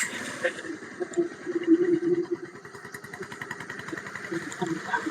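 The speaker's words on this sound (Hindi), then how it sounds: "अब सिलेंसर का जो है आवाज वो मैं आपको सुनाता हूँ" A Bajaj Pulsar 150 motorcycle engine idles with its silencer fitted, a steady, moderately loud putter heard up close, with someone talking over it throughout.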